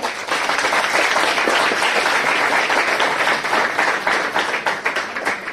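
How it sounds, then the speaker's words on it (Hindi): An audience at a school talent hunt show applauds steadily to welcome a Class 10 student contestant, a dense, even wash of clapping that holds at full strength throughout. "तो जोरदार तालियों से स्वागत कीजिए कक्षा 10 की शांति"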